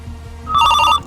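A phone ringtone chirps briefly during an outgoing call, a short bright electronic ring that starts halfway through and cuts off just before the end, over quiet background noise.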